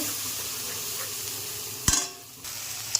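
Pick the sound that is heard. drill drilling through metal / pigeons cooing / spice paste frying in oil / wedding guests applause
spice paste frying in oil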